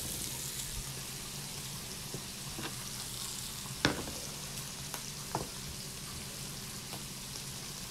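Garlic frying in a pan for a Moroccan chicken dish, giving a steady close sizzle and crackle throughout with a few sharp pops and clinks of stirring.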